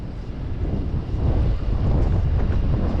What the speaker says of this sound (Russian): Поднялся ветер, не знаю, как слышимость.